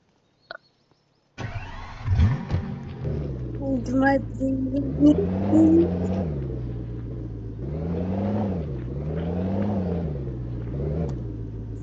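A car fires up after a brief click, then its engine idles and revs in repeated rising surges as it pulls away, loud and close, with a voice speaking over it.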